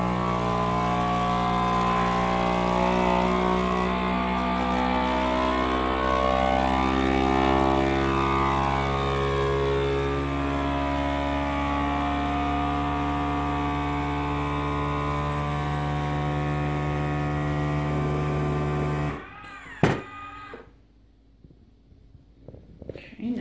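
A FoodSaver V4865 vacuum sealer, running through its accessory hose, pumps air out of a jar with a steady, loud motor drone for about nineteen seconds, then cuts off abruptly, leaving near silence with a few small clicks.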